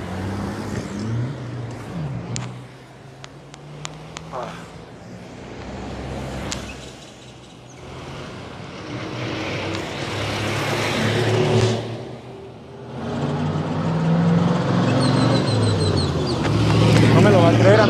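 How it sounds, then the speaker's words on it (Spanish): Many cars passing along a road in Puebla, engines swelling and fading in repeated waves, some revving close by, with talk over the traffic. "vienen como 300 autos"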